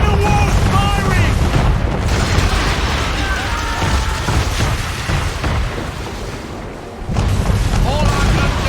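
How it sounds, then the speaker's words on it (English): Warship cannons booming in Assassin's Creed III Remastered on PS5, a dense, loud roar of blasts and rumble under shouting voices, briefly dipping before surging again. "Men of war's firing!"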